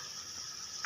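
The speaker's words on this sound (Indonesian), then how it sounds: "Kita lihat proses penggorengan ikan ini ya, ikan vegetarian ini ya." Pieces of vegetarian fish fry in a pan with a steady, even sizzle that carries on without break, fairly quiet and with no one talking.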